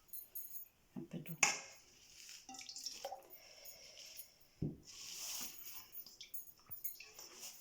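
Water is poured into a food processor for Moroccan thousand-hole crêpe batter, with close drips and splashes amid clinks of utensils and bowl, quiet and intermittent.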